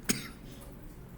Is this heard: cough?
yes